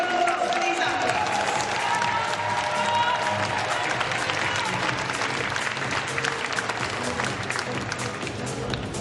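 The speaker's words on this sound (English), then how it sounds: "another round of applause for these athletes" An arena crowd at a European diving championship in Glasgow applauds 3m synchronised divers with a broad, continuous wash of clapping and some cheering, heard alongside a voice over the public address.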